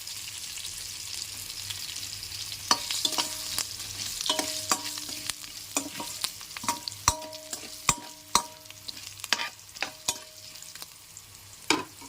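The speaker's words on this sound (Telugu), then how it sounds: "దినుసులు కూడా ఆయిల్లో వేసుకుని వేపుకుందాం" Whole spices and turmeric frying in hot oil for a Telugu boiled egg curry, a steady soft sizzle with repeated scraping stir strokes of a spoon in the pan, close and alone without talk.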